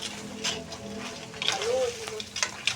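Crab fries in a pan while being stirred, giving a soft continuous sizzle broken by scraping stirs and clinks, with a voice talking over it.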